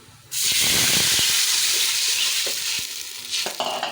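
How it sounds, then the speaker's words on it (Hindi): Water poured into a pot of cumin and whole spices frying for masoor dal and rice sets off a sudden loud sizzle and hiss. The sizzle eases slightly over a few seconds, with light stirring clicks. "अब मैं इसमें पानी डाल रही हूँ।"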